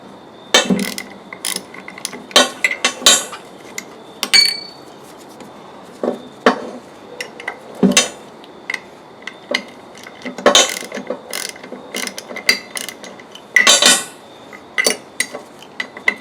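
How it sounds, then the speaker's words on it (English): Bursts of ratchet clicking from a hand tool working a bolt loose on a Borg Warner 1305/1339 Quadratrac transfer case during teardown, irregular short runs of metallic ticks with pauses between, close and fairly loud, no talking. "Just want to get the bolt loose."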